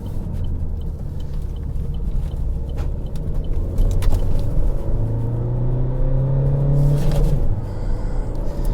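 A Vauxhall Insignia Elite CDTI Sports Tourer diesel car accelerates on a test drive, its engine rumble rising in pitch through the gears with a steady in-cabin drone.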